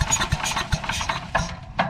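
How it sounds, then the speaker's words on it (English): An 8.5 hp Craftsman wood chipper engine sputters on starting fluid with no fuel in the tank, throwing out uneven chugs and pops that almost catch, close up and without talk. "just off the starting fluid I can tell it wants to start"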